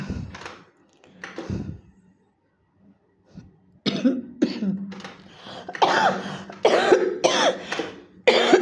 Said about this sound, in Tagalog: Inuubo talaga ako.